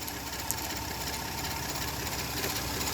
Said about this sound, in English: Right now, the engine is running